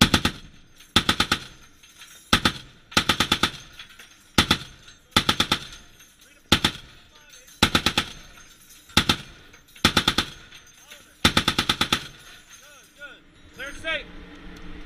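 Twin M2 and M2HB Browning heavy machine guns fire from a US Navy ship in repeated loud, close bursts of several rounds each, evenly spaced across the clip, with open air and faint background noise between bursts.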